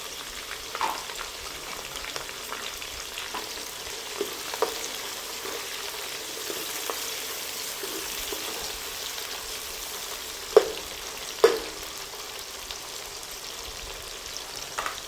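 Onions and green chillies fry in hot oil, a continuous close sizzle with a few sharper pops and crackles near the end, no one speaking.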